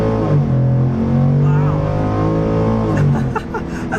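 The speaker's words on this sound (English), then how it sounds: "so the F-150 here runs the 5-liter naturally aspirated V8 engine" A 2021 Ford F-150 XLT pickup with a 5-liter naturally aspirated V8 in sport mode accelerates on a back road, a loud sustained engine drone rising in pitch from inside the cab, with a brief exclamation from the driver near the end.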